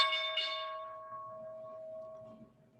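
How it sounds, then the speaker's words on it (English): Stock market opening bell rings once with a bright metallic strike, then a clear sustained tone fades slowly over a few seconds, fairly faint and alone. "That's opening bell if you didn't know."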